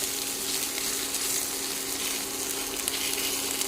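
Chopped ginger sizzles steadily in a hot pan, a continuous close frying hiss with faint bubbling and no voices, while cabbage fritters are being made in a home kitchen.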